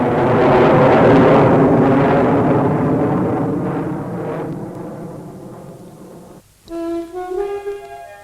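A propeller aircraft roars loud and close in a 1950 RAF pilot-training film, the broad engine noise slowly fading away before a brief musical flourish takes over at the end.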